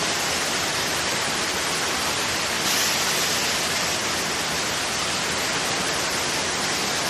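Tad Kuang Si waterfall in Luang Prabang, Laos, roars up close as a steady, loud broadband wash of falling water, unbroken and without voices throughout.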